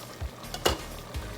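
Pork menudo simmers in a pot while a utensil stirs it, making three soft scraping strokes over a low bubbling sizzle, close and fairly quiet.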